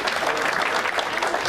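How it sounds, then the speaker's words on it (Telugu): A seated audience claps loudly and steadily, many hands blending into a thick, continuous burst of applause. "అందుకని ఒకసారి గట్టిగా చప్పట్లు కొట్టండి మళ్ళీ"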